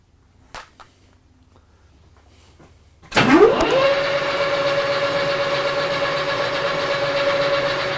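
A metal lathe spins up after a few faint clicks, its motor rising to a steady high whine that holds loud and even while cutting, with no talk.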